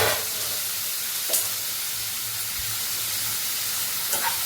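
Tomatoes sauté in a pan for a dosa chutney, a steady, fairly loud broadband sizzle and hiss that carries on without a break, with a couple of faint clinks over it and no talking.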